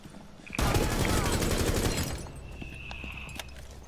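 A burst of automatic gunfire rattles loudly in the video game Rainbow Six Siege, dense rapid shots for about a second and a half before tailing off, followed by scattered fainter game sounds.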